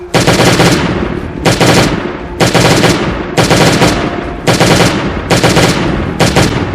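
Automatic gunfire in the survival video game Last Day on Earth: Survival comes in loud, dense bursts of about a second each, repeating in a regular rhythm with short gaps, close and dominant.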